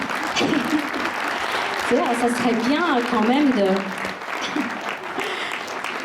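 An audience at a concert claps steadily for the bassist, a broad wash of applause continuing underneath someone speaking into a microphone.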